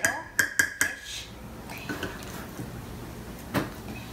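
A spoon clinks sharply several times against a bowl or dish in quick succession, followed by softer, wetter scraping and dabbing as banana cream pie filling is scooped into a crust, with a final knock near the end.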